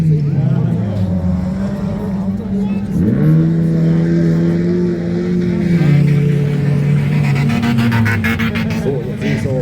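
Youth-class autocross cars, including a red Opel Corsa and a Honda Civic, race at Hesborn in 2025. Engines rev and drop as the cars accelerate, loud and close, while a commentator talks over the noise.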